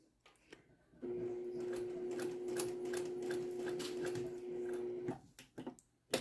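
A sewing machine sews a seam on a doll diaper with a long stitch length, running in one steady humming, clattering four-second burst, with a few quiet handling clicks before and after.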